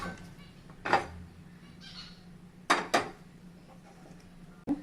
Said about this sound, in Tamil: இப்போ ஸ்டவ் ஆன் பண்ணி கடாய் வச்சுக்கலாம்